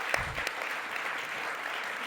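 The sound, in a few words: applause for a speaker joining the stage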